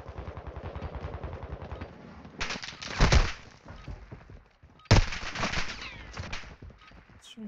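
Gunfire in Warzone 2, an online shooter: two sharp, loud bursts of shots stand out over a steady busy rumble of battle noise, trailing off into scattered smaller cracks.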